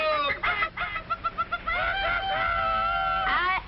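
A rooster crowing cock-a-doodle-doo in a 1951 film scene, repeated clucking calls first and then a long, loud, drawn-out crow close by with no talk over it. It may be a person imitating the bird.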